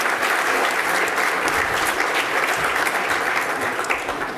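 Audience applause at an insurance awards ceremony, steady dense clapping from a seated crowd for a bronze trophy winner, sustained evenly throughout without pause.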